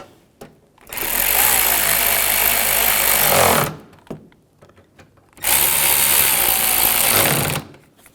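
Two long bursts of a power tool driving bolts on a 2006-2010 BMW 550i grille, each whirring loudly for a few seconds with short quiet gaps and small clicks between.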